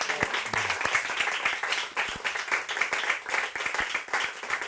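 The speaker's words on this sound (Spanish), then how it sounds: "Un aplauso primero," An opera lecture audience claps steadily together, a lively and continuous burst of applause with no voices over it.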